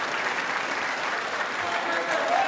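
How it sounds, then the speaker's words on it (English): Crowd at a chess semifinal in London breaks into sustained cheering and applause, a dense, steady wash of clapping that fills the whole moment. "And there's the cheers from the crowd."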